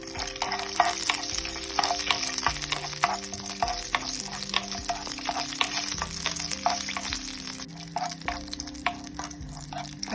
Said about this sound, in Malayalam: ആദ്യം നമുക്ക് അണ്ടിപ്പരിപ്പ് വറുത്തെടുക്കാം.